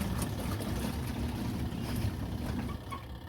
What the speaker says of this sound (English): I hear it washing.